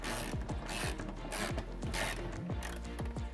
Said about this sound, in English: Now we're gonna get the shocks tightened up with an 18mm socket up top.